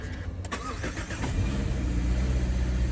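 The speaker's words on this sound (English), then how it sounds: "just push one start, push the brake" A 2020 Subaru Forester hybrid wagon starts by push button: a brief click and cranking burst, then the engine settles into a steady, close idle hum.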